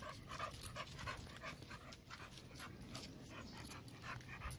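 Dog panting close by, quick faint breathy huffs with a few small whimpers over outdoor background noise during a walk on a leash.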